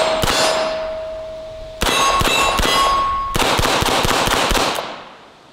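A Century Arms AP5K MP5 clone fires in three bursts, a single shot and then two rapid strings, loud sharp reports each followed by a ringing metallic clang.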